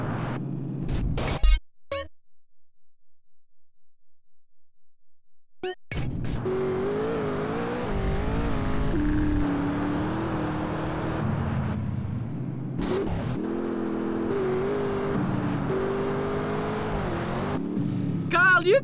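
A car speeds along in GTA San Andreas during the King in Exile mission: steady engine roar with rising and falling revs and tire noise, loud and continuous after a brief quiet gap at the start, with game voices talking over it.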